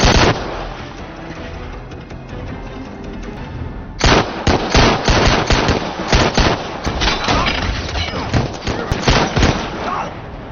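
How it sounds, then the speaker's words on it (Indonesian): Intense gunfire in a movie shootout, dense rapid bursts of shots and automatic fire, loud and close, a lighter stretch at first then a heavier barrage for the rest. "Mereka pun terlibat dalam baku tembak yang sengit."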